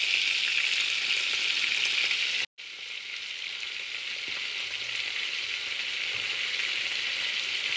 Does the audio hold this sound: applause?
no